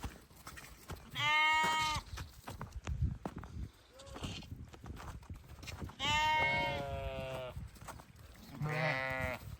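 Several goats bleat in quavering, wavering cries at moderate distance on a mountainside, with rustling, footsteps and occasional low human voices.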